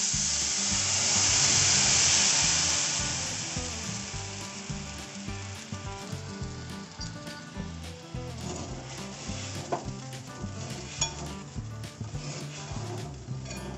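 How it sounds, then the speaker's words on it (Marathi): Half a kilo of sugar with just enough water cooks into a one-string syrup in a wok, bubbling with a steady close sizzle while a spoon scrapes and stirs it continuously; a louder hiss swells early and then settles. "सतत हलवत राहायचं आहे आणि आपल्याला 1 तारी पाक घ्यायचं आहे."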